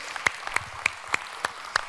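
A church congregation at a Baptist service claps in a steady, even rhythm, with six crisp claps spaced evenly and no voices over them.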